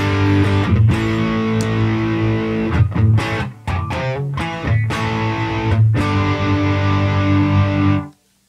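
Electric guitar played through a Hotone Hustle Drive, an inexpensive OCD-style overdrive pedal, giving a loud, distorted chordal riff with rhythmic stops, sustained close-up and then cut off abruptly at the end.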